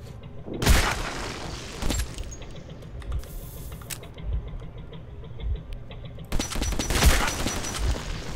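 Gunfire in the video game Metro 2033, with two loud bursts of shots separated by quieter clicking and faint rattling in between.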